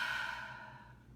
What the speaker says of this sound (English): Nice, deep, relaxing breaths.